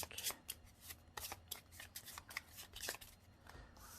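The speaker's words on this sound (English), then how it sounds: "Shuffle the deck." A deck of cards for The Phantom card game is shuffled repeatedly, with quick riffling bursts and soft flutters close by, no voices.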